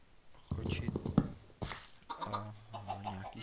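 Quiet clucking Minecraft chickens, with a whispering voice and a few soft thuds, ending in a sustained, buzzy tonal cluck.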